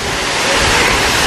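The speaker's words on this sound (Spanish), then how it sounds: "Llegamos a la cascada Huatancoy. Es grande." The Huatancoy waterfall, a large cascade with a pool, pours as a loud, dense, unbroken hiss of falling water close by, steady from start to finish with no talking.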